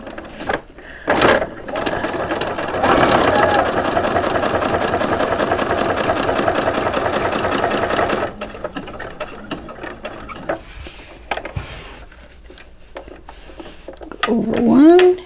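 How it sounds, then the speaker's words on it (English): A sewing machine stitches an in-the-hoop coin purse with the needle set in the left position. It runs in a loud, steady mechanical whir for several seconds, then stops and starts in shorter bursts while a person talks. "I'm going to just follow that stitch through"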